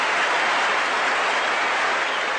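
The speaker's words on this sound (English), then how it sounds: "Even Felix around is applauding the catch." Crowd at a 1979 Australia versus West Indies cricket Test applauds a catch, a dense, loud, continuous roar of clapping that fills the whole moment without pause.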